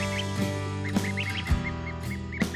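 A goose with a misaligned, crossed beak calls in a series of short honking quacks, fairly close, against a steady low background hum and some other faint bird calls.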